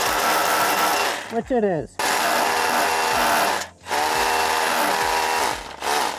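A power drill clears out a hole for a swing frame on an older Ford Falcon, whirring loudly in bursts that spin down and restart, with brief pauses between runs and a voice speaking briefly.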